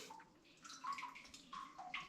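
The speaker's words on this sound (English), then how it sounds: "there's a small stream seeping out." A small stream of water seeps out of the abandoned Capel Ty-Nant lead mine, making a faint, soft trickle and gurgle that runs steadily for a couple of seconds with no voices.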